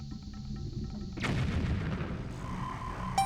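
A bomb going off in Wind Waker HD, Hero Mode: one sharp, loud blast that bursts out after quiet game ambience, followed by a decaying rumble and a short chime at the end.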